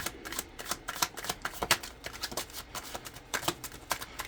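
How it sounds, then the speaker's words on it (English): Rapid crisp riffling of a deck of cards, repeated bursts of snappy flutter and taps in close, quiet surroundings. "Let's start off by shuffling the cards real quick."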